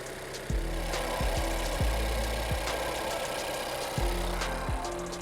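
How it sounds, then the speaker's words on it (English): A Honda Civic 10th-generation 1.5L engine idles after a PCV valve replacement: a steady, close low rumble with a periodic pulsing throb, and no voices. "start the engine like I just did and check for leaks"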